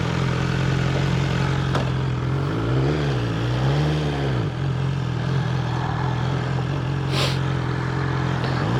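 A BMW S1000XR motorcycle engine runs steadily close by, its low throbbing drone loud and constant, with a brief rise and fall in pitch midway and a short sharp hiss near the end.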